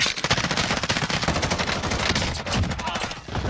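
Rapid automatic gunfire in Warzone, Bruen Mk9 and HDR in use, a dense loud stream of shots running nearly throughout with brief gaps.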